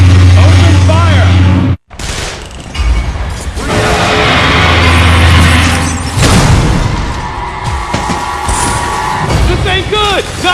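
Weapon fire and heavy booms from the video game Metroid Other M, loud and dense with crashing impacts, a brief drop to silence near the start, and voices shouting over the barrage.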